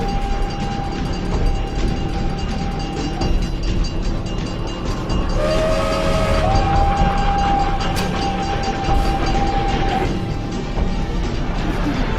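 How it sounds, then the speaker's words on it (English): A train rumbles past close by, heavy rolling clatter of cars on rails with steady squealing tones, continuous and loud throughout. "I didn't even know the train goes by."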